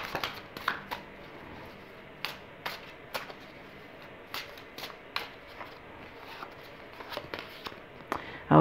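Tarot cards are shuffled quickly by hand, giving quiet riffling and sharp snapping bursts at irregular intervals against a soft room background.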